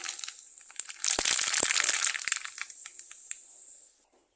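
Mustard seeds crackling and spluttering in a spoonful of hot oil while tempering sambar, a dense burst of sizzling pops that thins to scattered crackles before cutting off.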